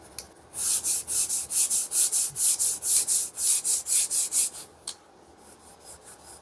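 Steel wool rubbed briskly over an old North Bros screwdriver, about fourteen quick rhythmic scrubbing strokes, close and fairly loud, ending in a single scrape and then quiet.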